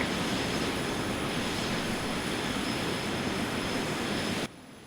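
Steady, loud roar of airliner jet engines during takeoff in the FSX flight simulator game, a constant broadband rumble that cuts off abruptly near the end.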